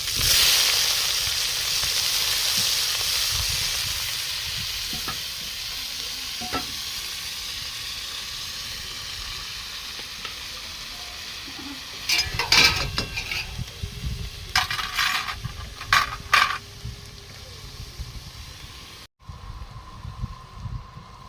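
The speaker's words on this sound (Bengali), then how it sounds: "ভালো করে ভাজা হয়ে গেছে, আমি এবার পেঁয়াজগুলো দিয়ে দেবো" Onions sizzling as they fry in a wok with cumin and green chillies for a Bengali leta fish curry, with a steady broadband hiss, stirring scrapes and clatters growing louder midway, then a short cut before the frying resumes.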